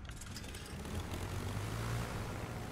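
Aircraft engines drone in the naval battle game World of Warships, a faint, steady propeller hum held evenly throughout with no voices.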